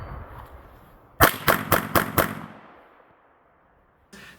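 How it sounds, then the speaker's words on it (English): Smith & Wesson 686 revolver dry-firing, its hammer dropping on an empty chamber: five sharp, loud metallic clicks in quick even succession, then quiet and one more faint click at the end. "I can either make the hammer go bang by pulling the trigger by itself"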